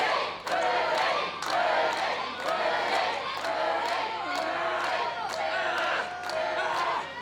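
A professional wrestling crowd at a Southern Rumble match chants and cheers in rhythmic bursts, loud and continuous, with rowdy shouts rising and falling in a steady cadence.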